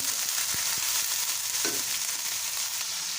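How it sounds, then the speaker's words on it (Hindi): About 100 grams of chicken being browned in a pan for zum zum pulao, a dense close sizzle with a couple of sharp spoon taps and stirring scrapes, no voices. "और इसको अच्छी तरह हम भून लेंगे।"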